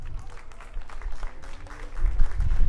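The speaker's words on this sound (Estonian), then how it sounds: "ma palun kõigepealt aplausi kohtunik Åge Kjetnes Norrast" An audience at an international dog show featuring children handling their dogs claps for the judge, the applause swelling and growing louder toward the end.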